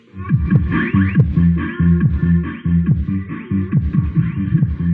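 A small home sound system plays a bass test, with deep throbbing low notes pulsing in a steady rhythmic pattern, loud and close, with a faint higher tone riding above and no voices.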